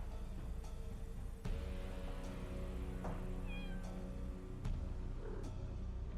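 A cat in the Deponia adventure game meows several times, short distinct mews spaced a second or so apart over a quiet tonal background, with no speech.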